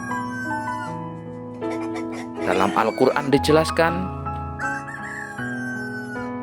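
A rooster crows amid a man's speech, the call rising in the middle of the stretch over a steady tonal background.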